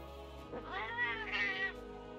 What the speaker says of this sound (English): Yeah, you got cat meows.